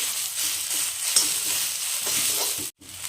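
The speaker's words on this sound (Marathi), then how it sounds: "तेलामध्ये व्यवस्थित भाजी परतून घ्यायची आपल्याला।" Leafy greens sauté in hot oil, a soft continuous sizzle and hiss with faint stirring scrapes, nearby and fairly quiet, cutting out briefly near the end; no speech.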